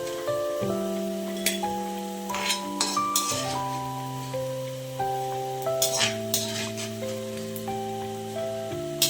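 Sliced okra frying in a pan until browned, with intermittent stirring clatter and a faint sizzle under steady background music.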